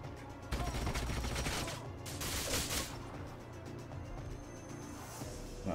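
Gunfire in the strategy video game Age of Wonders: Planetfall, a dense burst of rapid shots and crackling blasts over a busy game-sound bed, loud and continuous without talk.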